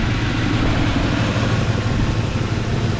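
Car engine idling after a warm-up run, a steady low rumbling drone close by with an even, unchanging level throughout.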